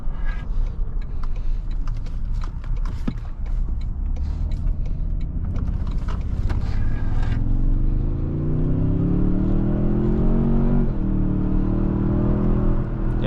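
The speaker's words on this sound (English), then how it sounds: "this engine sounds really, really good" A 2022 Toyota Tundra Hybrid Limited pickup's V6 engine drones loudly inside the cab, a low rumble that climbs steadily in pitch as the truck accelerates, briefly dips, then carries on, with no talking.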